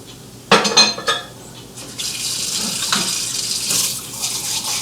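Water runs at a kitchen sink as something is rinsed off, a close gushing flow with clinks of dishes and utensils, starting after a sharp clatter and continuing steadily with no talking.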